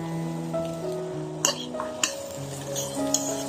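Minced chicken goes into a pan with grated carrots and chili peppers, followed by clinks of a utensil on the pan and soft stirring and sizzling under steady background tones, close and moderate in level.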